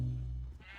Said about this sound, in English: I can hear a lot of sheep.